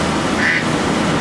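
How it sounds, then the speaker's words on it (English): Ducks on the water at an outdoor film shoot give a single short quack over a steady hiss of background ambience. "Ducks, they will ruin your take any day."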